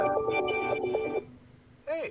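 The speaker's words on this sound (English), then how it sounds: "That was my phone, sorry." A mobile phone rings with a short electronic tone melody that stops after about a second, then a voice speaks briefly and one more chirp follows.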